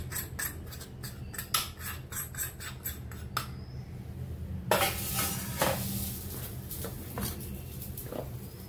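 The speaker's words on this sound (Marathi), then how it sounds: "या पिठामध्ये तेल चांगलं कडवून घेतलेलं ते घालून घ्यायचं। तर छान मिक्स करून घेऊया।" Hot oil is mixed into flour dough with a spoon, giving rapid rhythmic scraping and clinking against a bowl, then a brief sizzle and scattered stirring scrapes, close and moderately loud with no talking.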